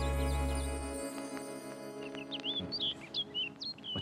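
A few high, thin chirping bird calls from a nuthatch outdoors, faint and somewhat distant, after a low rumble at the start fades away.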